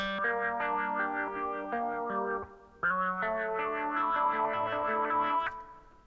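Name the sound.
psychedelic phaser filter guitar effect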